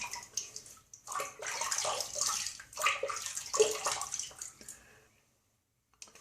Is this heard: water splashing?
yes